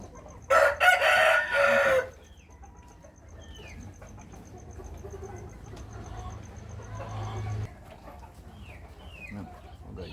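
A rooster crows loudly once at close range, then chickens cluck and murmur softly in the background, with a person speaking briefly among the birds.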